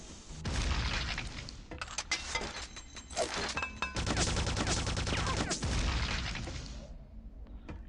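Repeated booming grenade explosions and rattling weapon fire from the Quake 2 game fill the scene, dense and loud, with bursts overlapping throughout and no talk over them.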